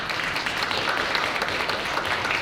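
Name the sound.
audience applause for the interpreters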